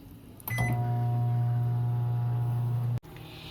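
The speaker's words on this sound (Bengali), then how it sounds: "আমি এখানে টাইম কুক করব তাই আমি টাইম দিয়ে দিচ্ছি" Microwave oven being set for cooking: a short beep as a button is pressed, then a steady low hum of the oven running for a few seconds before it cuts off, close and fairly loud, no speech.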